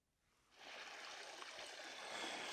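Water flowing steadily in a canyon stream in the Guadalupe Mountains, a continuous broadband rush that starts after a brief quiet moment and holds fairly close and even.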